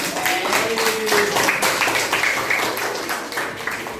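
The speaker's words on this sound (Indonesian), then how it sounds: "Tepuk tangan untuk kelompok 2." A classroom group gives steady applause for the second presenting team during teacher training presentations. The clapping is a dense, even patter lasting several seconds, and faint voices mix in.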